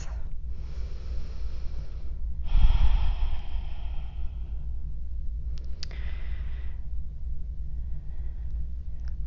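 Slow, deep breathing during a held yoga lunge, with a longer, heavier breath in the middle and softer inhales and exhales around it, close and quiet with nobody talking.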